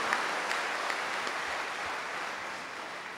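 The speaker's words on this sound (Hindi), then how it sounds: "Let's give him a big hand." A convention audience in a hall applauds to welcome a bishop, a broad, steady wash of clapping at moderate distance with a few sharper claps standing out.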